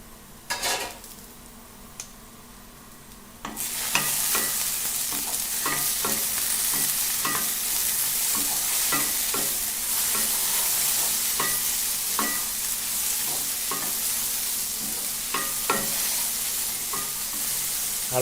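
French beans and potato sabzi sizzle loudly in a pan while being stirred, with repeated scraping clicks of the spatula over a constant frying hiss and no voices.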